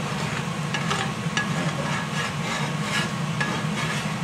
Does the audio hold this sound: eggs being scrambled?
yes